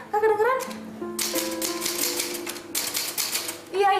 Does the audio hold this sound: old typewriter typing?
yes